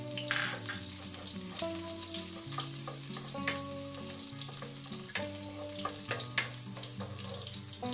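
Garlic fries in cooking oil in a pan, a close, steady sizzle with crackles and stirring scrapes, while music plays underneath.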